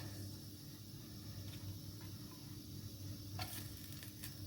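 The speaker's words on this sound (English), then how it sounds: "I'll be adding the chopped garlic" Chopped garlic frying in a little sunflower oil, a steady, quiet sizzle that runs the whole time, with a couple of light utensil scrapes near the end.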